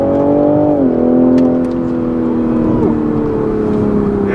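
A 2020 Toyota GR Supra pulls hard down the road, its engine note rising in pitch, dropping briefly at a shift and then climbing again, heard loud from inside the cabin.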